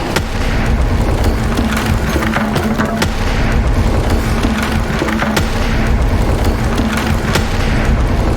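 A fire-spell blast cast in Hogwarts Legacy: a dense, sustained roar with booming low rumble and crackle that stays loud and steady throughout, with no voices.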